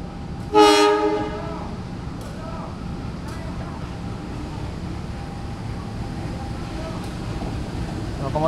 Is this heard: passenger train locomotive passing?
yes